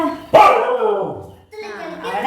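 A dog gives one sharp, loud bark close by, followed by a drawn-out whining howl and another yelp, with people talking over it.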